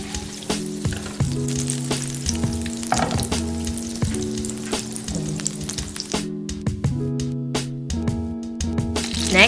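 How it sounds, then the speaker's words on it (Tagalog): Butter melting and sizzling in a frying pan, a steady close frying hiss with a repeating background melody throughout and no talking. "we put our butter and melt it in our pan"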